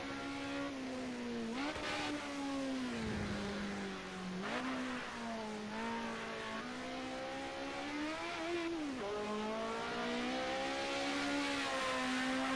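Ford Sierra Cosworth Group A race car engine in a racing video game at Bathurst, a steady droning engine note with rising and falling revs and gear changes throughout, no talking.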